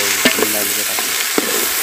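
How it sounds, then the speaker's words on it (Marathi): Jackfruit vegetable sautés in a pan over a village wood-fired stove, a loud, close sizzle broken by a few sharp scrapes of stirring. "आणि चांगली परतून घेतो भाजी"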